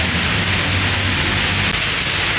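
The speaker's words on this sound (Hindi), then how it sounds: "देखो बहुत तेज बारिश, आज लेट ही हो जाएगा पूरा" Heavy rain pours down steadily in Uttarakhand, a dense, loud, continuous hiss of rainfall drumming on surfaces, with no voices over it.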